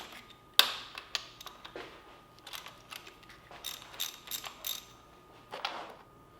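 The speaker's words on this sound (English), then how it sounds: "15mm ratchet. Turn it." A 15mm ratchet clicks in quick, irregular bursts as bolts are loosened on a Porsche 911 being prepared for an LS engine swap, close and fairly quiet, with a sharper clack near the start and no talking.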